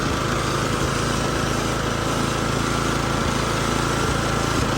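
A custom John Deere racing lawn mower runs at speed, producing a loud, steady, raspy engine drone close by throughout, with no talking.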